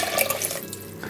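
Water poured into a soup pot holding a dry mix of split peas, lentils and barley for a vegan vegetable soup, a brief close splashing pour that tapers off after about half a second.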